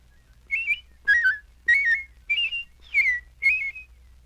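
A person whistles an imitation of a robin's song: six short warbling phrases at shifting pitches in an even rhythm, clear and close against a quiet background.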